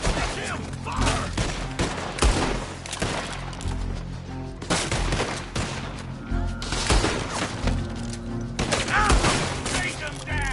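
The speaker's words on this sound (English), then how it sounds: "Jim, fire!" Rapid, loud gunfire from a Red Dead Redemption 2 shootout, dense volleys of overlapping shots and booms running throughout, with game characters shouting over the firing.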